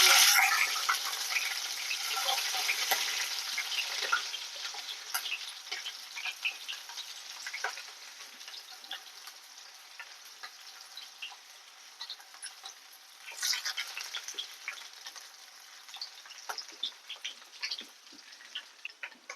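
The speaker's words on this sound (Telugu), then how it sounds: "బాగా ఎర్రగా ఫ్రై అవ్వాలి" Onions, shahi jeera and cloves fry in hot oil for vegetable biryani, giving a steady, crackling sizzle that is loudest at the start, then settles into a softer, continuous hiss with occasional pops.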